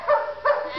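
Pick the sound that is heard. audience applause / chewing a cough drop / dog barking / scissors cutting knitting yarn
dog barking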